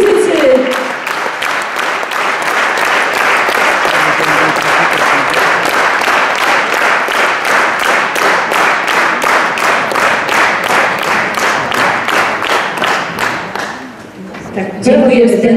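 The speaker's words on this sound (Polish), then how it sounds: "To też brawa dla was, tancerze, soliści, muzycy." An audience at a 2016 New Year concert in Zdzieszowice clapping in steady rhythmic unison. The beat is loud and continuous, then stops near the end as a voice starts.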